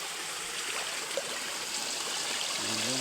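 Clean water pours steadily from a hose at an outdoor bathing spot, a constant close hiss and trickle with no pauses, ending in a faint low hum.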